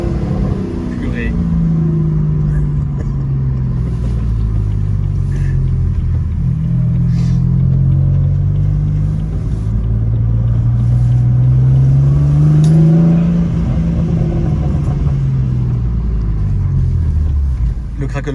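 A 650-horsepower car engine revving in the rain, a loud close rumble that rises and falls in long swells, with a voice talking over it.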